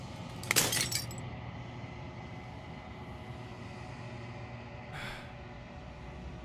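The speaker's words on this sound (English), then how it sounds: "As the final fragment of glass shatters" Glass shattering in the game Slay the Princess, one bright crash near the start and a fainter brittle tinkle later, over a low quiet drone.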